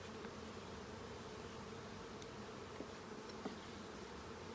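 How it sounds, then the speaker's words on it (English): Honeybees buzzing in a hive being inspected, a faint continuous hum with occasional small clicks and taps, no voices. "that's where all the bees are."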